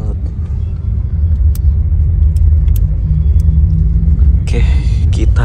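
Intercity coach bus cruising on a road between Jakarta and Malang while overtaking a Garuda Mas double-decker, a steady loud low engine and road rumble with a brief hissing burst near the end.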